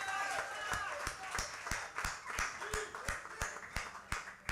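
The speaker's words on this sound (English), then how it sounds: "A round of applause there." Scattered clapping at a retirement function, a few sharp, distinct hand claps in a loose irregular rhythm, near and moderately loud, with voices talking underneath.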